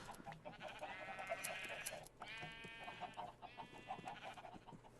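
Sheep being sheared in Minecraft with the GregTech mod: a few distinct bleats come in bursts, each under a second or so, over a faint game background with no talking.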